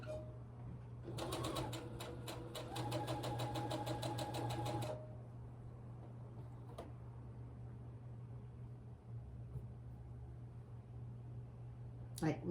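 A sewing machine stitches a narrow seam on wool lamb fabric, a close, fast rhythmic whir lasting about four seconds, then stopping, leaving a steady low hum with a couple of faint clicks.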